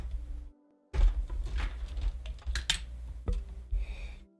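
Fast typing on a computer keyboard follows a brief pause, dense clattering key presses close up with a few louder thumps, no voices.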